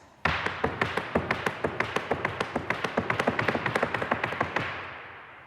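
Irish dancer's heel taps on a hard floor: a quick, steady stream of crisp close clicks, some doubled, running for about five seconds with no talking.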